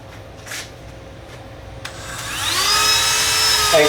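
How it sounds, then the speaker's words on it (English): A Dremel rotary tool spins up to a high, rising whine after a few quiet handling clicks while cleaning the heat exchanger seat of a Rinnai RL series non-condensing water heater. "I would take my Dremel"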